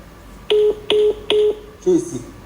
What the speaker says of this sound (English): See, we are going to be calling his number.